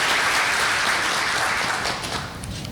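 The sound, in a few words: audience applause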